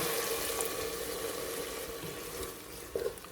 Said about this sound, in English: And add a bit of water.